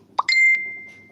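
A phone notification chime sounds once: a short plop followed by a bright ringing ding that decays over about a second, clear and close with no talk around it.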